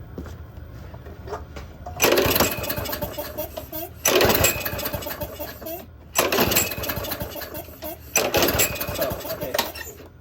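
A Craftsman lawn mower with a freshly cleaned carburetor is pull-started repeatedly, four loud bursts of rattling engine cranking that catch briefly and then die, with quieter pauses between the pulls.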